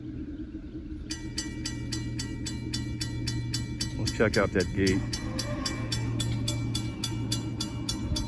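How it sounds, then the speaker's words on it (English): A train with distributed power units approaches with a steady low rumble while a crossing bell clangs in rapid, regular strokes; someone speaks briefly over it. "here comes the train"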